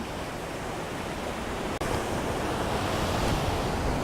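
Ocean waves break steadily on a shore, a continuous loud wash of surf with a brief dropout midway and no voices.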